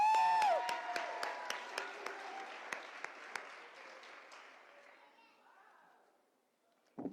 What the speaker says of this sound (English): Can we just give all of them a round of applause again, please?